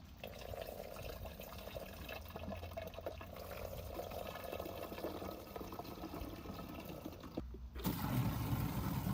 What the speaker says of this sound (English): Now I'll fill up my sprayer.